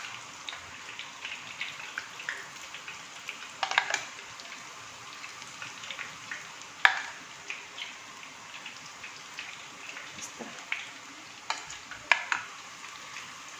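Dough pieces frying in hot oil, a quiet continuous crackle and fizz with scattered small pops, no talking.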